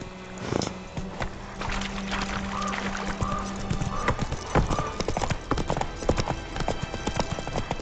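Horse hooves clip-clop at a steady walking pace in The Witcher video game, close and fairly loud under a continuous ambient game bed, with a brief neigh-like tone and scattered sharper knocks.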